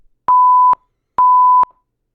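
A Python Vosk real-time censor beeper emits two identical pure tone beeps, each about half a second long, separated by a short gap, loud and clean against silence.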